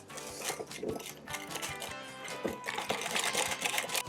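Chocolate pudding cake batter with cocoa being whisked in a bowl, a busy run of quick scraping, tapping strokes that continues steadily and close up throughout, with no talking.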